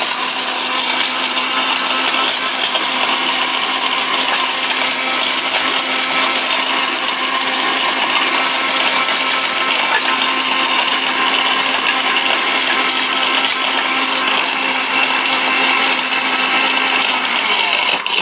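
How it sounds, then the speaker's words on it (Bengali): A robot food processor blender runs nonstop at full power, its loud, steady high-pitched motor whine and dense grinding roar filling the whole stretch, close up, with no talking over it. "এমন এক ব্লেন্ডার নিয়ে আসছি, পাগলা ব্লেন্ডার।"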